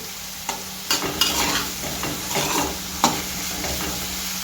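Chopped onions with fresh coriander are stirred in a hot pan for karela sabzi, a steady sizzle broken by several sharp scraping clatters of the spatula against the pan.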